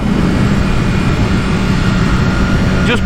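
A BMW S1000RR superbike accelerating on the road, its engine a loud, steady, dense roar that holds throughout.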